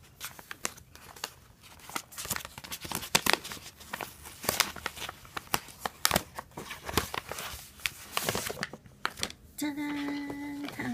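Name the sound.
unwrapping a package from a Japanese department store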